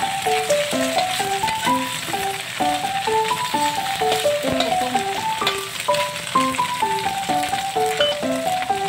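Tofu hongsa for adobo fries in a pan with a steady, close sizzle under a bright, plinking melody of background music throughout.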